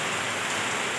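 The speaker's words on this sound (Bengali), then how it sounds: "এই দেখো বৃষ্টি পড়ছে।" Steady, dense rain pours down in a continuous broadband hiss, close and loud throughout, with no voices over it.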